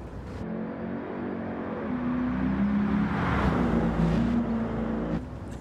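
A car engine in Gran Turismo 7, a steady humming drone with a clear engine tone that rises and holds as the car accelerates, then cuts off abruptly near the end.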